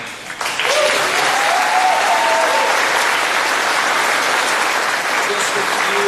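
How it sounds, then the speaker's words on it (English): Sustained applause from a large audience at a 2021 high school graduation ceremony, loud and steady from start to finish, with a few faint voices and whistles rising above the clapping. "Just one more big round of applause for these grads, because we love them."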